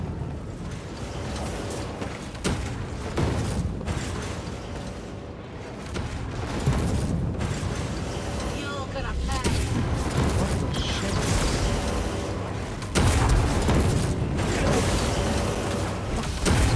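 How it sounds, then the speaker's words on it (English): Explosions in the video game Star Wars Jedi Fallen Order, with heavy rumbling booms and creaking mechanical clanks layered in a continuous loud, dense game soundscape with intermittent sharper bursts. "Something big happening here. I hear explosions."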